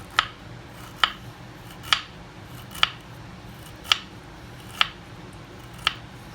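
A knife slices peeled ginger very finely on a board, giving seven crisp, evenly spaced taps about once a second, close and fairly quiet.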